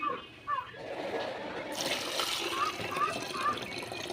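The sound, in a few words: water running while washing rice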